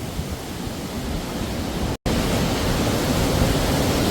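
A strong wind storm roars steadily, a dense broadband rush close to the microphone, with a brief dropout partway through and no talking.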